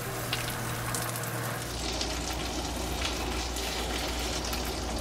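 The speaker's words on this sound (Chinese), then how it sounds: "外面再煎，也是大概煎一分钟到两分钟。" A sea bass fillet pan-frying in oil, a continuous dense sizzle and crackle, close and steady for the whole stretch with a low hum underneath and no speech.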